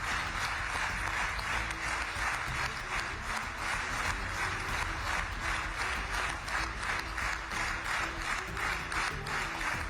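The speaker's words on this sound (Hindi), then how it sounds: "इस दौरान पूरा सदन तालियों की गड़गड़ाहट से गूंज उठा।" Members of Israel's Knesset applaud after Prime Minister Modi's speech, a broad, steady roar of clapping filling the chamber for the whole stretch, with a faint rhythmic pulsing as the hands beat together.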